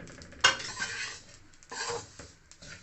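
A spoon scrapes and stirs fennel seeds with poppy seeds frying in ghee in a pan for daal panjeeri, in a few close, brief stirring strokes with soft clatter.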